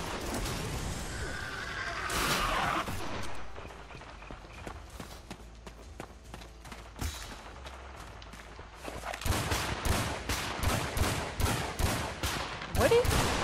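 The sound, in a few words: gunfire in video game Primal Carnage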